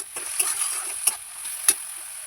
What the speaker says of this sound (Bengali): কয়েক টুকরো কাঁচা লঙ্কা কুচি, সাথে খানিকটা নুন দিয়ে ভালো করে ভেজে নেব